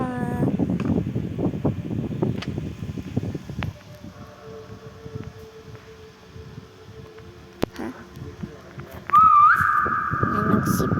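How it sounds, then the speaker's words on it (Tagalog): A sustained, steady whistle rises up near the end, loud and close, after a stretch of talking and scattered background noise. "Nag-whistle na ako. Sipol daw talaga."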